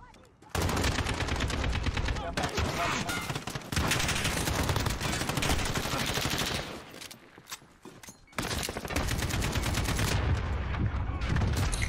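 A Semtex grenade in Call of Duty Modern Warfare 2019 multiplayer goes off amid loud, dense bursts of automatic gunfire. The gunfire drops out briefly a couple of times before resuming at full intensity.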